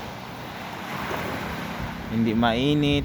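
Steady wind noise from a sea breeze buffets the microphone, with faint surf underneath and a brief spoken remark near the end.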